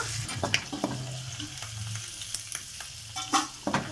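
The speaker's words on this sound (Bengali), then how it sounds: "ভালো করে লাল লাল করে ভেজে নিতে হবে" Garlic, green chili and coriander fry in hot oil in a pan, a continuous close sizzle broken by frequent scraping stirs and clinks of a spatula.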